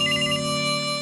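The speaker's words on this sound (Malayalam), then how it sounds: "ഫോൺ സാർ എടുക്കൂ അതോ ഞാൻ എടുക്കണോ?" A telephone ringtone plays alone, a steady electronic tone with a bright melody on top.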